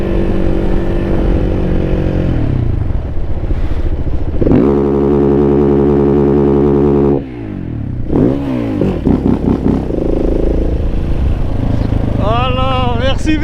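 A KTM 690 SMCR single-cylinder supermoto held on a wheelie runs into its rev limiter, giving loud, close, buzzing stuttering bursts at steady high revs, then the engine drops and revs again with a rider's voice over it.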